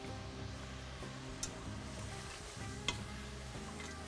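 Pine nuts, onions and spices including salt, pepper and baharat stirred in a frying pan, a steady close sizzle with a couple of faint scraping clicks.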